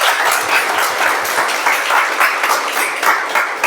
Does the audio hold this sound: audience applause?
yes